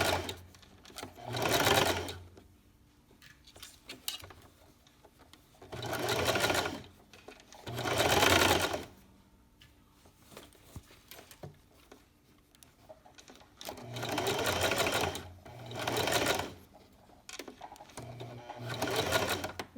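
A sewing machine runs a straight stitch along a quarter-inch seam through several stacked fabric layers of a baby sleeper, in five or six close, steady bursts of rapid stitching separated by short quiet pauses.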